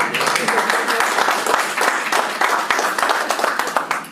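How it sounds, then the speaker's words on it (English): Attendees at a school board meeting clap together in a brief, moderately loud round of applause, individual claps audible within the patter as it rolls on steadily with no speech over it. "That deserves a hand clap."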